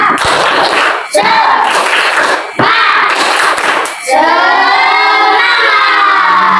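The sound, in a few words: class doing 'tepuk semangat' spirit clapping cheer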